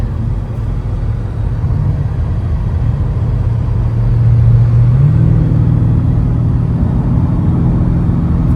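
Deep, steady petrol engine rumble from a BMW, loud and close, rising slightly in pitch midway as if revving a little, no talking.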